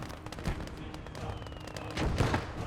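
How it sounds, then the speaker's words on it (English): Mortar shells burst in the World War II strategy game Gates of Hell amid a Soviet charge on a German-held factory, dull booms and crackling gunfire rolling through a busy battlefield, with a heavier pair of blasts near the end. "Mortars dropping in the center of them is deadly."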